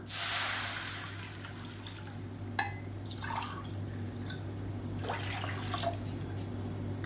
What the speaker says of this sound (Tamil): இப்போ அதே கடாயில் நல்ல ஒரு நானூறு எம்எல் அளவுக்கு தண்ணி சேர்த்துக்கலாம்